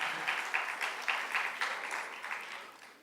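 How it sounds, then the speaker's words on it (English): Light, scattered applause from a small crowd, thin and brief, fading out over a few seconds. "I thought I would have gotten a louder applause for that."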